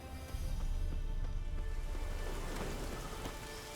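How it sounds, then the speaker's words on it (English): Rain in The Witcher 3: Wild Hunt falls in a continuous patter with a low rumble beneath it, steady and moderately loud throughout. "Looks like rain."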